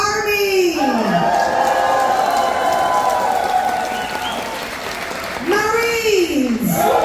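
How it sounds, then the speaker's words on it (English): Cruise ship passengers cheer for the United States Army during a military tribute: a sustained crowd roar with applause and rising whistle-like cries, and a voice speaks over it. "If you're from that branch, please give us a cheer"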